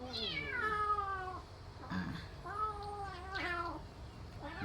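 A hungry cat begging for a mackerel head in a kitchen cries three times, each a clear, close, wavering meow with short pauses between, ending on the start of a fourth.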